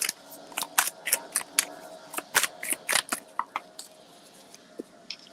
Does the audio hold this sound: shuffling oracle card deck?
yes